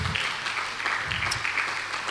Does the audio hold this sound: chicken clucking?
no